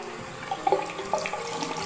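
Tap water runs steadily into a sink for wetting the face before a beauty routine, a close, continuous splashing with a few brighter gurgles partway through.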